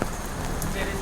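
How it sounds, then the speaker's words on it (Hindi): Steady rain falls on a street near a bus stand in Kohima, Nagaland, a continuous wash of broadband patter that lasts the whole moment, with a voice talking over it. "बारिश तो देखो अच्छा ही हो रहा है,"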